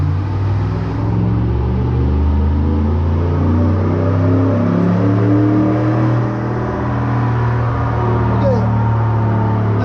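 A 2013 Ford Raptor engine revving hard on a dyno, a loud steady droning roar with a rising pitch throughout and a voice faintly audible beneath it.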